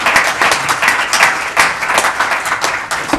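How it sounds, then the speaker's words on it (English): Clapping from an audience for a panel at a lawyer wellness event, a close, lively round of applause that swells and dips in waves over a few seconds. "please give a real round of applause to our panel"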